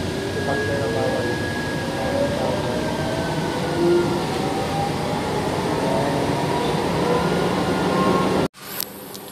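Steady rumble and hum of a Manila MRT-3 metro train in motion, heard from inside, with a faint whine, ending in an abrupt cut to quieter noise.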